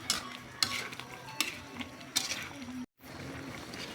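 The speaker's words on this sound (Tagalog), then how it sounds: "Halo-haloy natin para yung nasa ibabaw ay umilalim at maluto" Chicken tinola stirred in a cooking pot with a ladle, several sharp metallic scrapes and clanks over a low simmer, briefly cutting to silence before the bubbling resumes.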